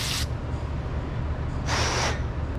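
An aerosol can of brake cleaner is sprayed onto a sensor on a Ford Ranger, giving two short, sharp hissing bursts separated by a pause of about a second and a half.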